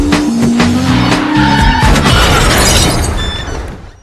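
A car launched off an overpass slams down onto a vehicle transport truck, with tires squealing, a heavy crash and glass shattering, then debris settling as the loud burst fades out at the end.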